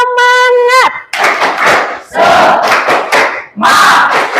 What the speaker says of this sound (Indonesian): Kelas 95, tepuk semangat.